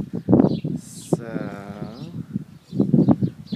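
A sheep on a farm gives one drawn-out, wavering bleat, close by, with people talking just before and after it.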